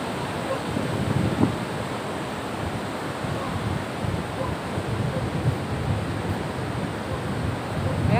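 Strong sea waves pound the shore during a southwest monsoon storm, heard as a continuous, loud roar of surf mixed with gusting wind buffeting the microphone, steady throughout with no clear breaks.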